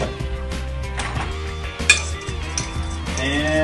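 A utensil clinks and scrapes against a bowl while mixing milk and cinnamon batter, giving close, quick metallic taps and clatter with a few louder knocks.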